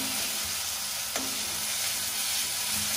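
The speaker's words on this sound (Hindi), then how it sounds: "साइड साइड से तेल भी छूटने लग गया है, मतलब कि तड़का हो गया है" Tomato masala sizzles and crackles steadily in hot oil in a pan while a tadka is prepared, a constant close frying hiss with a brief stir or clink midway.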